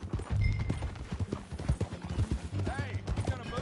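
In Red Dead Redemption 2, horse hooves clip-clop in a steady rhythm while riding along, close and clear, with characters talking over the hoofbeats.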